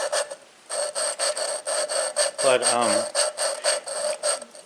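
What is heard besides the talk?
lapping an engine valve by hand, rough grinding sound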